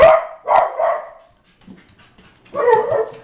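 Beagles barking close by: three quick barks in a row, a pause with faint soft sounds, then another loud bark burst.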